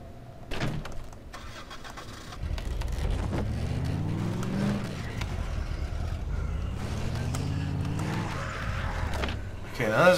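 Pickup truck engine in the zombie game Dead Island, revving up and rising in pitch twice in the near foreground, with a player talking over it.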